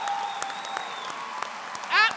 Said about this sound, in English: Let's give another esteemed round of applause to those who have earned it.